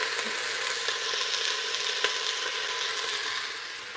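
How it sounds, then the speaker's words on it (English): Meat sears in a hot pan with a steady, fairly quiet sizzle and crackle that holds evenly throughout, with no voices. "I'm searing up our meat."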